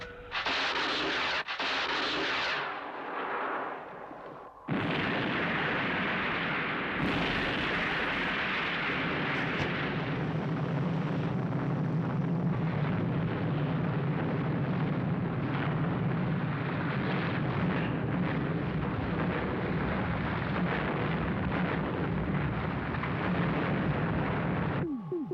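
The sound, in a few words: missiles fired and exploding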